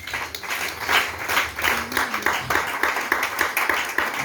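A church congregation claps and cheers in praise of the Lord at an Independence Day celebration, a dense steady wash of applause held for several seconds with a faint voice briefly rising through it.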